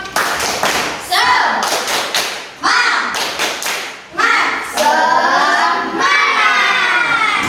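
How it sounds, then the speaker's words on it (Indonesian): An elementary school class does a rhythmic spirit clap, bursts of sharp group clapping in patterned beats alternating with children chanting and shouting along, loud and close in a classroom. "Sebelum mengerjakan kita tepuk semangat dulu"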